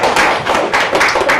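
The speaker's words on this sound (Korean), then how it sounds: "박수 한번" Applause from a church congregation gathering, a short burst of clustered hand claps and taps rising and falling in a few quick waves, close and loud.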